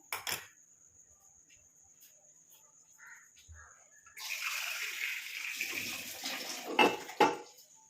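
Water is poured into a clay pot sitting on a stove, a steady splashing stream starting partway through and running to the end after a near-quiet stretch with faint background sounds.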